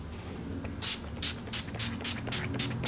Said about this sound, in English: I'm going to go ahead and spritz my face with my favorite, the Makeup Finishing Spray